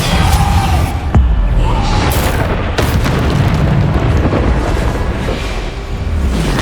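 Bombarda explosion spell in Hogwarts Legacy: a deep, loud boom with a dense rumbling blast that fills the whole stretch, topped by sharper bursts and cracks.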